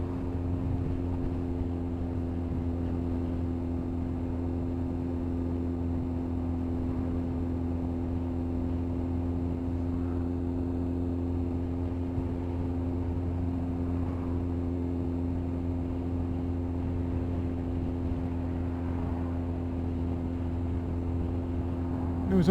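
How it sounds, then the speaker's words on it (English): Steady low drone from a Kawasaki ZX9R motorcycle exhaust while riding, under a constant broadband rush of wind noise, unchanging and continuous throughout. "exhaust sound is just about audible over the wind noise."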